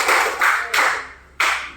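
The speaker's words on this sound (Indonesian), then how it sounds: "tepuk tangan untuk kita semua." A classroom group claps hands in several sharp, loud bursts, each ringing out briefly before the next, with no talking over it.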